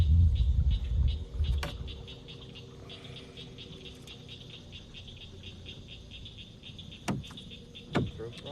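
Frogs croak in a rapid repeating pulse at a Northeast Mississippi fishing spot, steady throughout under a rumble of a passing car and a few sharp knocks and clicks.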